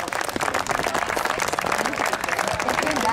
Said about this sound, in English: Great round of applause for the players at Santa Cruz.